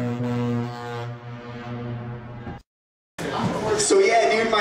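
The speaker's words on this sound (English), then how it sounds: "Spanish clubs love foghorns, I found." A DJ plays a foghorn sound effect in a Spanish club: a long, loud, low droning blast that cuts off abruptly, followed after a brief silence by a burst of busy, noisy music.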